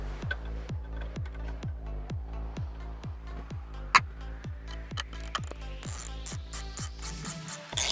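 Ratcheting pass-through wrench tightening an upper engine mount bolt on a 2003 Dodge Neon 2.0L, giving a steady run of evenly spaced clicking strokes, close and clear, with a sharp metallic knock midway and some rattling near the end.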